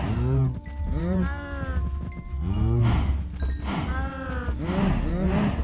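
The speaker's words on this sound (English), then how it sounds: "come here, cows" Cows in the Minecraft video game moo repeatedly, about four drawn-out calls in close succession, loud and near, with no talk over them.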